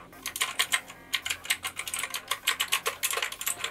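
A mechanical keyboard with blue switches clatters under fast typing, crisp clicky keystrokes tumbling in quick irregular bursts, close and alone with no talk.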